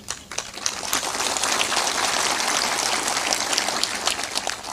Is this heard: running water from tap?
no